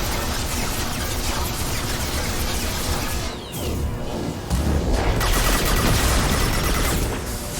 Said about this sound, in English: Somebody's shooting missiles from the background.